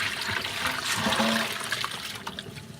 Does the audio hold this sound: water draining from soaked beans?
yes